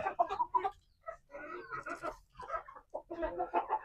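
Ratu Siam chickens from Thailand cluck in short close bursts while feeding, a busy run of soft calls with brief pauses between, no talking.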